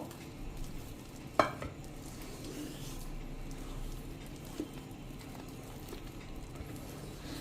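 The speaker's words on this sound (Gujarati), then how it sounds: "હાથેથી જ આ રીતે ફેટવાનું છે" Freshly ground idli batter of rice being beaten by hand in a bowl, a soft continuous wet squishing and churning, close and quiet, with one brief knock.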